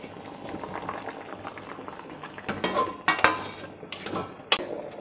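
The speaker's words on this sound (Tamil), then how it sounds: "இங்கே காய் வந்து ஒரு கொதி வந்துருச்சு" A pot of mixed vegetable curry comes to a boil, with a soft continuous bubbling close by and a few sharp metallic clinks and a scrape of a utensil against the pot.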